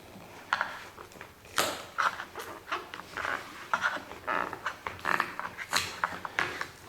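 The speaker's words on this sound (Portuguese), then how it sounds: "usar uma chave de fenda e forçar assim, ela vai soltar, ela vai destacar" Screwdriver forcing apart a cement coffee-maker mold that was glued with a few drops, giving a string of irregular scraping and cracking bursts close by with no talk.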